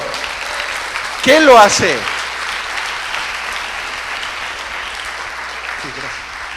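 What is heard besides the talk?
church congregation applauding loudly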